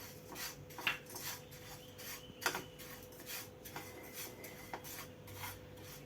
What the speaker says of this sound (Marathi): आता हे जे मीठ आहे ते मी भाजून घेते